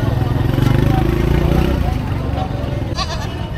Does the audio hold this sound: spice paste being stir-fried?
no